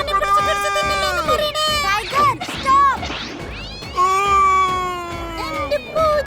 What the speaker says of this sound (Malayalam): എന്റെ പൂച്ചക്കുട്ടി, എന്റെ പൊന്നു പൂച്ചക്കുട്ടി